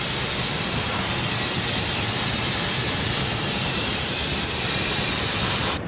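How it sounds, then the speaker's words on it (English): A loud, continuous rushing hiss of sand sprayed onto glass during sandblasting, steady and unbroken for several seconds with no voices. "workers spray sand onto the designed part of the glass"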